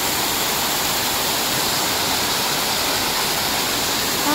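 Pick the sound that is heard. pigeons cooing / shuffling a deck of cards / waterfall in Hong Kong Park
waterfall in Hong Kong Park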